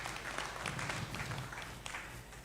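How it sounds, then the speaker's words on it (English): A conference audience at a regional learning event on care reform gives a short round of steady clapping, fairly faint and distant. "A clap for him."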